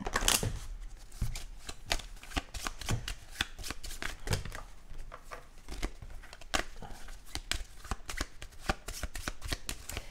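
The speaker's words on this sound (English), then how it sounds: "I have to shuffle." Cards are shuffled during a tabletop board game, a close, continuous run of rapid riffling flutters and soft slaps lasting several seconds with no talking over it.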